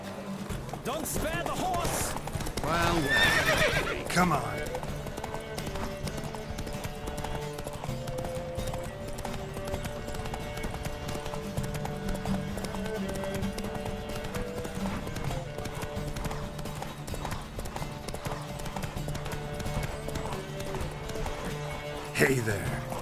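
Galloping horse hoofbeats in The Witcher 3: Wild Hunt during a horse race near Novigrad, rapid steady clip-clop under a music score with occasional neighing and voices calling out.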